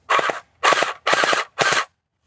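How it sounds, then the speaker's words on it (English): UnlocX gel blaster firing in short full-auto bursts: four quick rattling bursts spaced roughly half a second apart, close and loud against near silence. "It takes a second to get it spooled up, I suppose, because you have to wait for this worm gear to move the rounds up into the blaster."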